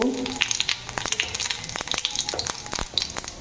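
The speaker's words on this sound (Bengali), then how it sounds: "সর্ষের তেল দিয়েছি, তেল গরম হয়ে গেছে। একটা শুকনো লঙ্কা, জিরে ফোড়ন" Dried red chili and cumin seeds spitting and crackling in hot mustard oil, rapid close popping bursts over a steady sizzle, fairly loud.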